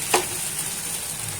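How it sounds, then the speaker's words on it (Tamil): Finely chopped onions frying in oil with fennel seeds and cinnamon, a steady close sizzle with a short burst of stirring near the start. "பெருஞ்சீரகம், பட்டை போட்டு பொடிசாக கட் பண்ணி வச்ச வெங்காயத்தை நல்லா வதக்கி எடுக்கணும்."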